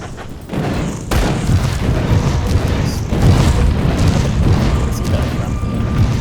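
Stun jacks thrown down in Grim Dawn, setting off a sharp burst followed by a sustained rumbling, crackling roar of blasts, loud and close.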